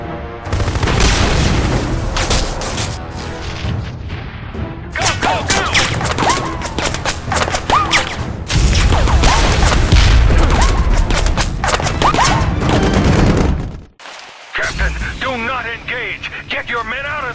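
Heavy gunfire and booming explosions in the Section 8: Prejudice video game, loud bursts and rattling shots layered with a dramatic score, a brief drop to near silence, then more combat noise returning.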